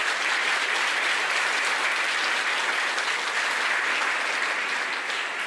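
Sustained, dense applause from a large audience at a school excellence gala, loud and steady throughout without a break, with no talking on top.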